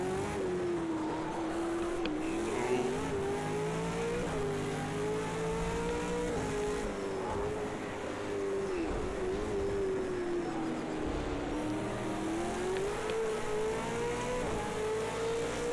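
A race car engine drones continuously while lapping Bathurst in the video game Project CARS 2, its pitch rising and falling with acceleration and gear changes, loud and steady with no talking.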